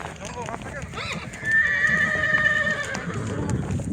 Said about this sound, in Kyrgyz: мына жорго ат келип калат